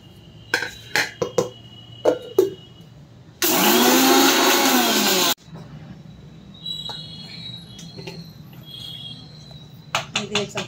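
A mixer grinder whirs loudly for about two seconds as it grinds roasted whole garam masala spices, with light kitchen clatter and taps before and after the burst.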